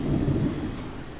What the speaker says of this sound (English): Thunder, lightning, rain.